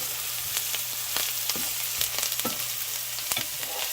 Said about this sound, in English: I'm gonna start saute the onions with the olive oil